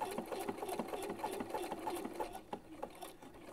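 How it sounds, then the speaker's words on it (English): A domestic sewing machine stitches the end of a buttonhole on scrap fabric, a steady mechanical whirr with rapid rhythmic needle ticks that runs close and continuous throughout. "push the end of the buttonhole. So now it's going to do the end stitch."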